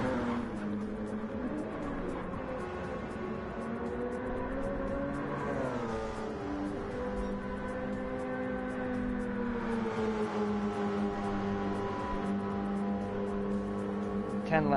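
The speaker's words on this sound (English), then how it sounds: "We have Eli in the number 98, Newport Esports Porsche 919." Porsche 919 race car engine in a racing video game: a continuous high, buzzing engine whine that rises and dips through gear changes, steady and loud throughout.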